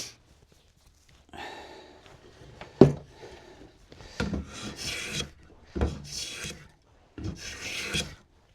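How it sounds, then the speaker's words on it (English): Rasping shavings off the outside of a wooden through-mortise tenon for a dog gate: several bursts of dry scraping strokes, close and moderately loud, separated by short pauses, with one sharp knock early on. "I'm just going to take a few shavings off the outside"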